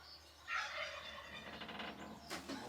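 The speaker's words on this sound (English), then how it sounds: "You can hear my turkey" Turkey gobbling in a garden: a rapid burst of gobbling calls, repeated, somewhat distant and moderately quiet, heard over a steady outdoor background hum.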